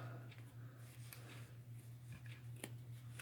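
Faint, sparse snips of scissors cutting through fabric threads over a low steady hum, a few crisp clicks spread across a few seconds.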